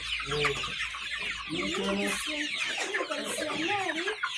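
Several chickens clucking close by on a poultry farm in Rwanda, with steady overlapping calls and short rising squawks through the whole stretch, one rooster-like call standing out.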